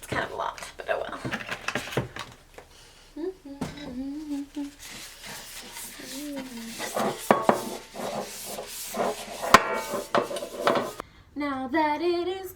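A cake tin being greased and handled while baking a vegan lemon cake: soft rubbing, scraping and light metallic clinks close by, under quiet, whispery talking.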